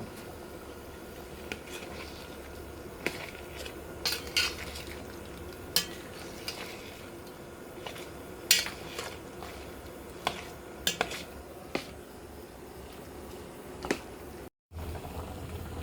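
Spices and meat with onion and bay leaf get mixed in a pot, giving repeated clinks and scrapes of a metal spoon against the pot over a low bubbling, cooking hiss. No voices.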